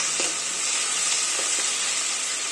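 Oil heats in a pan for a taro and fish curry, a dense, even sizzle that stays close and loud throughout with no talking.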